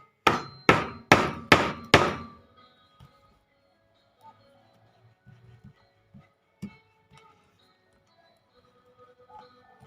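Four sharp hammer blows on a chisel driven into wood in quick succession, cutting a mortise hole, then quiet with only faint scattered taps and a single knock later.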